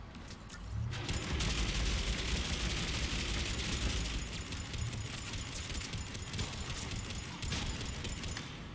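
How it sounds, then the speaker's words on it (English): A hostile turret in Mass Effect 3 fires steady rapid bursts at close range, a dense, continuous rattle of gunfire layered with combat noise and no talking. "What's shooting me? Feels like a turret."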